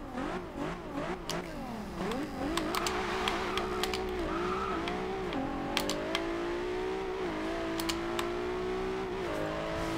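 A 2012 Nissan GT-R Black Edition in Forza Horizon 2 revs and shifts through gears, its rising engine pitch topped by turbo whistle and sharp clicks, loud and close, with no talk over it.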